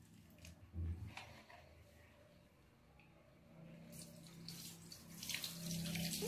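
Tap water splashes steadily over a two-month-old Shih Tzu puppy during a bath rinse, a soft close stream that grows louder and fuller toward the end, with no voices over it.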